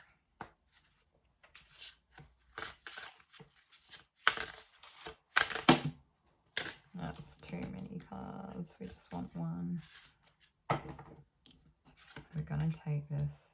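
Tarot cards shuffled and drawn by hand, in intermittent soft slides, flicks and rustles with pauses between them, with a person talking quietly throughout.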